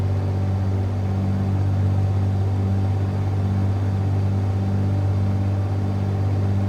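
In Microsoft Flight Simulator, the engine of a Piper PA-28R Turbo Arrow holds a steady 2000 RPM run-up, a loud, constant droning hum with a strong low tone that never changes.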